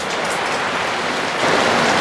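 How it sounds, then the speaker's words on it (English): Light rain from a passing thunderstorm falls outdoors near a workshop, a loud, steady hiss that swells slightly toward the end, with no voices. "It's raining a little bit."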